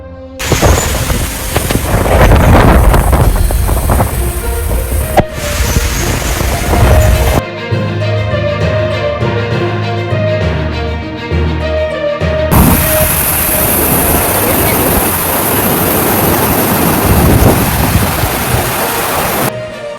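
Heavy rain and strong winds of Tropical Cyclone Sean lash Karratha, Western Australia, a loud continuous roar of downpour and gusts that surges and shifts in texture throughout, with no voices.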